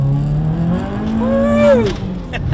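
A fully warmed-up Subaru WRX turbo engine with a new turbo inlet is taken to full throttle, its loud rising whine climbing in pitch before dropping back to idle.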